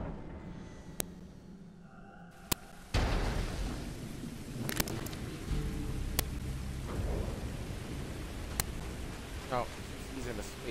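A video game thunderstorm bursts in with sudden heavy rain and sharp crackling thunder strikes, loud and dense over a steady rushing wash, while a voice speaks briefly.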